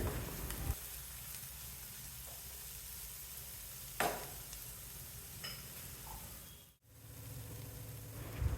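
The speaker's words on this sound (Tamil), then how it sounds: "பொடியெல்லாம் சேர்த்து கொஞ்சம் வதக்கிட்டு" Spices and garam masala sizzle and crackle steadily in a hot pan, with occasional scrapes of a spoon stirring them.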